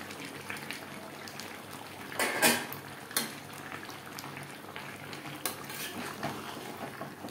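Fried potatoes being mixed into chicken in a pan over high flame for Bengali aloo chicken, with scraping utensil clatter and metallic clinks against the pan over a soft steady simmer, one louder clatter partway through.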